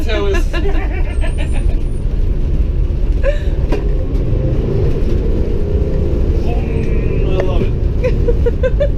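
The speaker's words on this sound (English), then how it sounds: "your little cruise in an 1971 Volkswagen bus with a 2001 Subaru engine in it" A 1971 Volkswagen bus fitted with a 2001 Subaru engine cruises along, its steady low rumble filling the cabin with road noise and a few rattles, while people talk over it.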